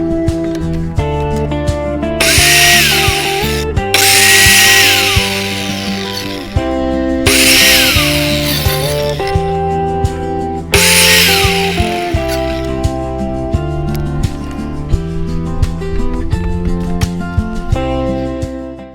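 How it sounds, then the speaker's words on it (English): A power tool cuts wooden roof battens into sections for a campervan conversion. A loud, steady motor whine is broken by four long, harsh bursts as the blade bites through the wood, with the motor running between cuts. "I'm going to cut these into sections."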